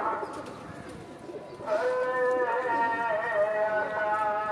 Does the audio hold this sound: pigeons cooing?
yes